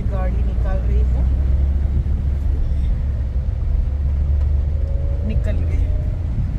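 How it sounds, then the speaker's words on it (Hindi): A car driven in first gear through flood water on a road near Kolhapur: a low, steady engine rumble with water sloshing underneath, while someone talks over it. "सो देखो ये पानी में से मैं गाड़ी निकाल रही हूँ"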